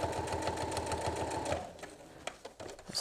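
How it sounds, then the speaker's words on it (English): Sewing machine stitching fabric bunting, a steady rapid whirring stitch rhythm for about a second and a half, then stopping and leaving scattered handling clicks. "I'm just going to sew down."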